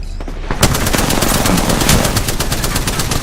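Rapid automatic gunfire in an online shooter game, a dense continuous burst of loud shots that starts abruptly and keeps rattling without pause.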